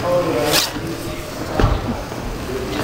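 A clothing zipper is pulled sharply a few times with quick rasping zips, heard alongside background noise.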